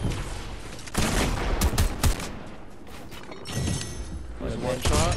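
Enhanced shotguns boom repeatedly in an online shooter match, loud, close blasts in quick irregular bursts mixed with other gunfire, while players talk excitedly over the action.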